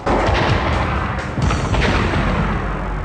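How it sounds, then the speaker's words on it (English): A loud, rumbling movie explosion fills the whole stretch, dense and roaring with a booming low end that barely fades before the end. "concludes with an explosion"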